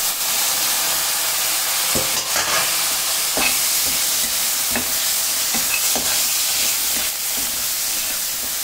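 Boiled peas are stirred into a spicy masala in a hot pan, a loud steady sizzle and hiss with repeated spatula scrapes and taps against the metal, close up and without any talking.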